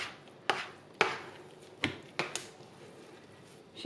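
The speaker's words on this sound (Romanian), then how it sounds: "Ne ajutăm de o spatulă pentru a curăța blatul" A spatula scrapes sticky cozonac dough made with egg yolks off a kitchen counter in five or six short, sharp scrapes at a close, moderate level, with quiet pauses between them.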